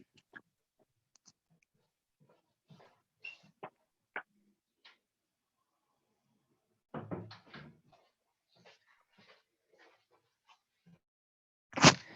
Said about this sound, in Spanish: voy a abrir la puerta donde está el módem